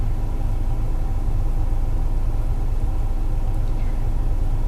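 A car engine idles steadily from inside the cabin, a constant low rumble with no other sounds over it.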